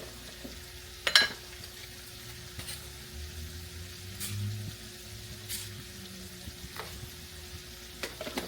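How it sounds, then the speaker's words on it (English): Sugar stirred into a sausage spaghetti sauce as it sizzles in the pan: a faint, low bubbling sizzle with a few sharp utensil clicks and scrapes against the pot, quiet and close. "And then we're going to stir it up."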